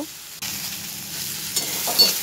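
Potato and eggplant stir-fried with turmeric and salt: after a short quiet start, a loud, close sizzle bursts in and holds steady, with a couple of stirring scrapes toward the end.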